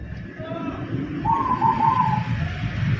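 A wild local zebra dove (perkutut) gives a short, close coo over a low background hum, with a voice murmuring around it.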